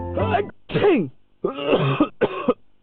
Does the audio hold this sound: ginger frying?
no